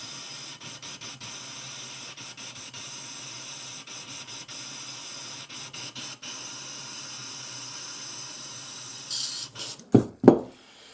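An airbrush being cleaned, spraying in a steady hiss broken by quick rhythmic stutters as the trigger is pulsed, ending in a few louder, gurgling bursts.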